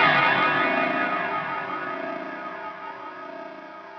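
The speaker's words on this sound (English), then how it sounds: "you can hear that kind of pulsing sound as the strings sort of are ringing out" Struck electric guitar strings left ringing through delay, chorus and distortion effects, a dense sustained chord slowly decaying with a wavering, pulsing shimmer, no voice.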